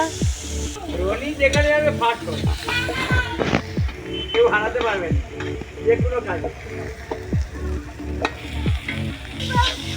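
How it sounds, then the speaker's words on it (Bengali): Onions frying with garam masala, bay leaves and green chillies for a meat curry at an outdoor picnic, giving a steady sizzle with stirring scrapes beneath almost constant talking. "মাংসর ওই যে পেঁয়াজ ভাজা হচ্ছে, গরম মশলা, তেজপাতা, পেঁয়াজ, কাঁচা লঙ্কা"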